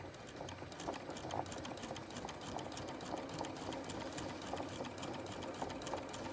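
A sewing machine stitching boning onto a bustier, running steadily and continuously at a quiet, even, rapid stitching rhythm with no pauses.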